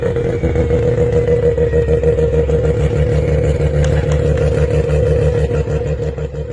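A Mazda RX-7 with a loud exhaust holds a rough, throbbing idle and blips its revs, a near and continuous engine roar with a clattering edge.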